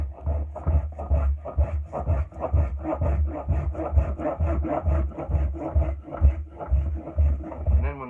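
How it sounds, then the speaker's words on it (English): A spokeshave smooths a wooden axe handle in a shop. The strokes scrape and rasp in a steady, repeated rhythm, close and fairly loud, and the sound runs alone with no talk. "We're just spoke shaving it smooth."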